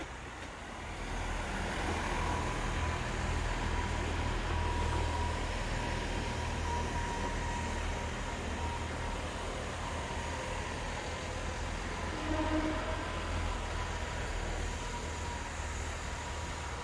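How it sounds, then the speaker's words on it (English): British Rail Class 166 and 165 diesel multiple units pass by with a steady, broad rumbling roar that holds evenly throughout, heard at a moderate distance with no voices. "Fairly new to the area are class 166 and 165 diesel units"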